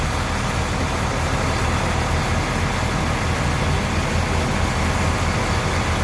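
A bus engine idles steadily and loudly before departure from the Ramayana ticket office, a constant low rumble with no breaks throughout.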